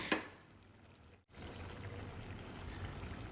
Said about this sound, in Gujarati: તો નાના 2 ગ્લાસ ભરીને પાણી ઉમેરી દઈશું